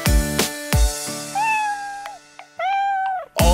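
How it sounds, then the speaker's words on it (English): In a children's song, a kitten gives two drawn-out meows over loud, thumping musical beats. "No, it's just a kitten's mew."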